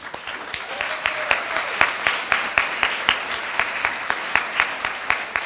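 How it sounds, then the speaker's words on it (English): An audience applauds Girl Scout cookie sellers at an annual meeting, with dense, steady clapping from a crowd in a hall that carries on for several seconds. "Their phenomenal efforts need to be applauded."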